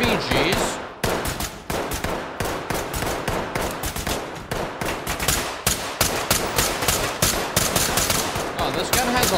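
Rapid bursts of gunfire ring out at a shooting range in the video game Ready or Not: dense, loud, repeated shots in quick rhythm for several seconds, with brief pauses between strings of fire.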